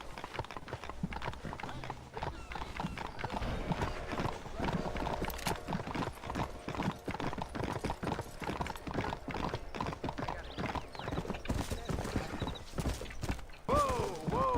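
Horse hooves in Red Dead Redemption clop in a quick, steady rhythm, close and distinct, with brief talk over them and a short whinny near the end.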